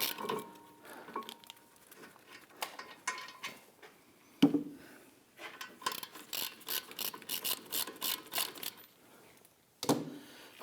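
A brake caliper bracket bolt is worked loose and removed on a 2009-2017 Volvo XC60 during a front brake job, with bursts of rapid ratchet clicking, metallic clinks and tool handling, close and fairly quiet, with pauses and sharp knocks between runs.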